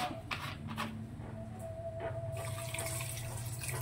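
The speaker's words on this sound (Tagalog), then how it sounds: "Lagyan natin ng tubig" Water pours into a cooking pot for ginataang tulingan with a soft, steady, close splashing stream that runs for a few seconds.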